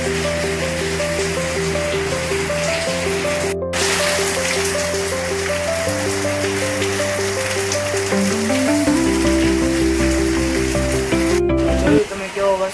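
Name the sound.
rain falling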